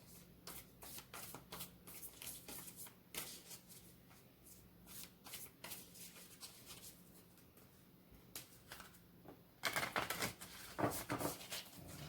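Close, quiet riffling and tapping of tarot cards being shuffled, irregular clicks and flutters that grow louder and busier toward the end.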